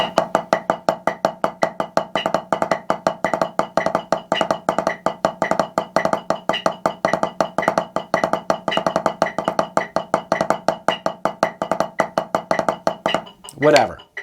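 A drum improvisation built on triplet drags and triplet rolls, a continuous dense stream of rapid strokes with steady rhythmic pulses played close and loud for about thirteen seconds before stopping with a final crash.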